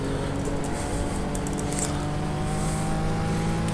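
A Jaguar race car in the GTR2 Power and Glory mod racing game holds a steady, close engine drone that runs unbroken for the whole stretch, with no speech over it.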